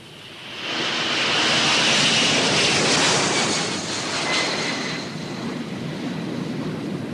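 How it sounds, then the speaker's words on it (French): An airplane passes overhead with a loud, broad engine roar that swells quickly, holds steady for several seconds, then eases slightly as it moves away, with no voices over it. "Oui, naturellement, c'est un avion."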